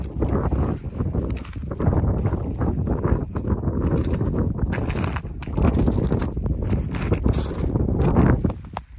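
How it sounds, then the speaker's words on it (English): Strong wind buffets the microphone outdoors on a frozen lake during cold ice fishing, a loud continuous rumbling roar with gusting surges, no voices. "Oh, it's windy and cold, man."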